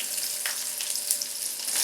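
Garlic, dried chillies and onion sautéing in oil for mudakathan keerai chutney, a faint, steady, soft sizzle with no talking.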